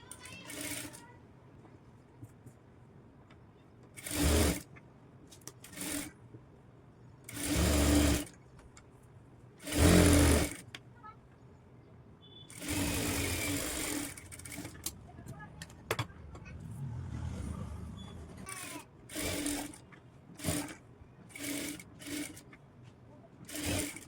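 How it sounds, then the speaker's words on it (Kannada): A sewing machine stitching a blouse, running in repeated short bursts of whirring with pauses between them, close up, with some quiet handling noise in the gaps. "ಅದಾದ ನಂತರ ಇದನ್ನು ಈ ರೀತಿ ಇಟ್ಟು ಇದ್ರ ಮೇಲೆ ಒಂದು ಸ್ಟಿಚ್ ಹಾಕೋತೀನಿ"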